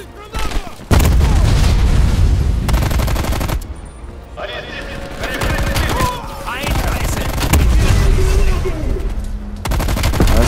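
Heavy gunfire and a grenade blast in the war game Call of Duty Black Ops Cold War: loud bursts of rapid automatic fire and booming impacts, broken by short lulls, with voices shouting in between.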